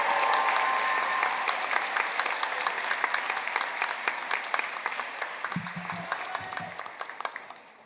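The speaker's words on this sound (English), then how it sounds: "One final round of applause for all of our graduate level" A graduation-ceremony audience applauds graduate-level graduates of a mass communication school, a full round of clapping that starts loud and gradually thins to scattered claps, with a few brief voices near the end.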